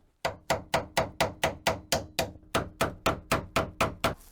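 A hand tool is used as a hammer on a steering ram bolt of a Bravo sterndrive transom assembly, giving about fifteen sharp metallic strikes in a fast, even rhythm, loud and close with no talk.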